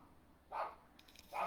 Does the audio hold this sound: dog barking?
yes